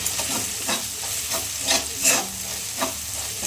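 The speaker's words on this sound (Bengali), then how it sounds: "এগুলো এটা ভালো করে একটু কষে নিতে হবে।" Spices with Kashmiri chili powder sauté in a pan for a bread potato roll filling, giving a steady close sizzle with repeated scraping stirs of a spatula and no talk.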